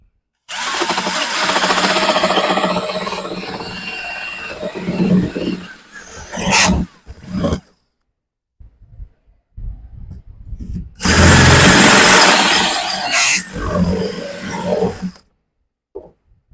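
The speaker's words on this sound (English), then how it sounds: "commence with the drilling." A power drill whines loudly in long bursts, stopping and starting several times with short pauses and quieter handling noises in between.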